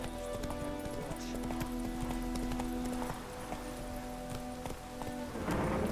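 Roach, the horse from the video game The Witcher 3: Wild Hunt, gallops with steady rapid clip-clop hoofbeats over a constant musical and ambient bed, with a brief whoosh of rustling near the end.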